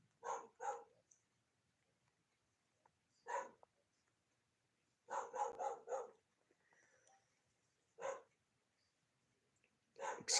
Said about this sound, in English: Excuse me if you hear a dog barking in the background.